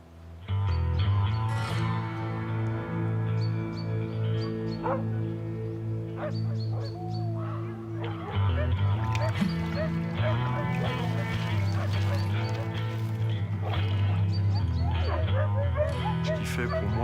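Sled dogs at a musher's kennel in the Haut-Jura barking, yipping and whimpering in a near, continuous chorus with overlapping high whines and sharp yelps throughout.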